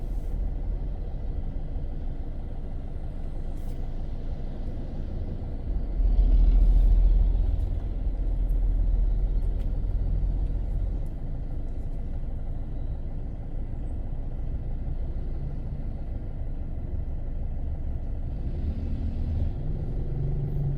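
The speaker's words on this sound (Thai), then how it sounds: "รถก็ยังหลายอยู่เนาะ" Steady road traffic in Vientiane, Laos, a constant low rumble of passing cars with a heavier vehicle surging past mid-way, continuous and fairly distant with no talk.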